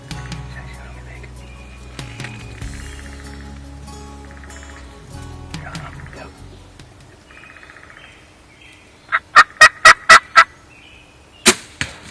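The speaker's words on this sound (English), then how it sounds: "we heard a gobble on the opposite side of the blind" A wild turkey tom gobbles during an opening-day spring hunt in Wisconsin, heard as a quick series of sharp, loud bursts near the end, with quieter calling and outdoor sounds before it and a final sharp report.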